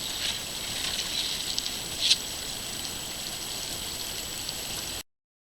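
Mountain trout creek flowing, a steady hissing water rush with a few small splashes, continuous for about five seconds before cutting off abruptly.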